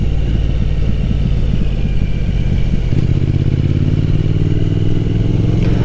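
Triumph Thruxton motorcycle rumbles along a dry road, loud and close, with a steady engine drone and clatter that steps up in pitch partway through as the rider accelerates; no talking.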